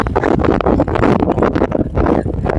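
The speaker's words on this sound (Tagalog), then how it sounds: "Lakas ng hangin." Strong wind buffets the microphone on the CALAX bridge during a bike ride, a loud continuous roaring rumble with gusty swells throughout.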